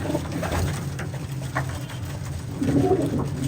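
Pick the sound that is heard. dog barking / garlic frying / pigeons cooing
pigeons cooing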